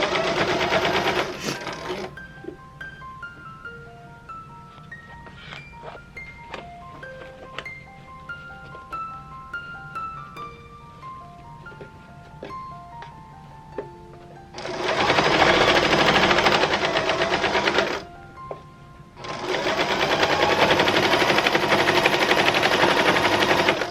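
A sewing machine stitches denim in a loud, rapid buzzing burst at the start, goes quiet for a long stretch, then runs in two more long steady bursts near the end.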